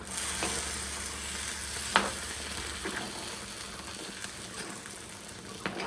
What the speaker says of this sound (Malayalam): ഇനി ഇത് നന്നായിട്ട് നിളക്കിയെടുത്തിട്ട് അടുപ്പ് കെടുത്തിയാൽ മാത്രം മതി